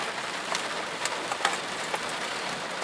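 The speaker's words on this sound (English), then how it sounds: "Sorry about the raindrops. It's actually we're out here because of the lighting, and it just started raining." Rain falls steadily outdoors beside an Audi A4, a constant soft hiss broken by scattered, distinct raindrop taps close to the microphone.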